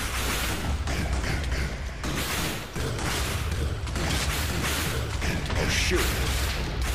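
A Wither being killed in Minecraft with a large explosion, in a roaring, sustained blast of broadband noise lasting several seconds with brief dips, while a voice speaks briefly over it.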